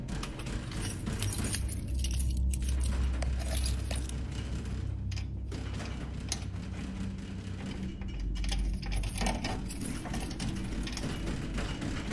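Keys jangle and rattle steadily as someone hurriedly unlocks a front door, a close, continuous metallic clinking over a dull background hum with no talk.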